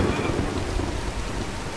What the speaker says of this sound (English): let's wait out the storm